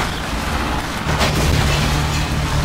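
Rally car crash in the video game My Summer Car: a rough engine rumble is broken by a sudden heavy thump and crunching burst about a second in, then the engine keeps droning loudly.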